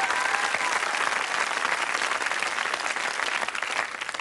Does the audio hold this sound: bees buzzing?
no